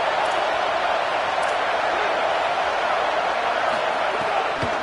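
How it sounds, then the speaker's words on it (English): A football stadium crowd at a college game against Penn State roars steadily through a 3rd down defensive stand, a loud continuous wall of cheering with no break. "Decibels rising as the crowd gets behind this defense on 3rd down."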